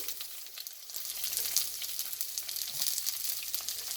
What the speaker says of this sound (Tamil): வெட்டி வச்சிருக்கிற வெங்காயம் போடுறேன் நான் பெரிய வெங்காயம்